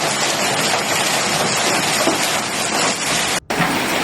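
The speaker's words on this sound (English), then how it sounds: "The hailstorm covered the city of Albacete in just a few minutes," Hailstorm and heavy rain pounding down over the city of Albacete, Spain: a loud, dense, continuous roar of falling ice and water that cuts out for a split second near the end before resuming.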